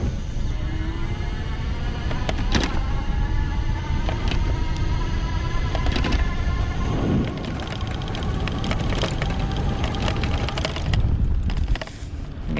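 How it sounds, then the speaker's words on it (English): A 2019 VoltBike Urban electric bike's motor runs under smooth throttle, giving a steady whine layered over continuous wind and road rumble while riding, with no talking. "I'm gonna do a little smooth throttle action here"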